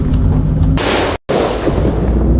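Gunfire aimed at an armoured tactical vehicle in the Puncak area of Central Papua, heard as loud, dense booming shots close by, with a brief dropout partway through.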